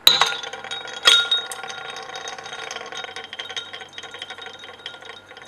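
Ice cubes clinking as they drop into a glass reaction vessel set up for reducing trichloroacetic acid with zinc, with a sharp glassy knock at the start and another about a second later, then faint rattling and settling.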